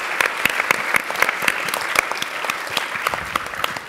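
An audience at an evening startup pitch event in Silicon Valley claps after a pitch, a dense, steady round of applause at moderate distance with no voices over it.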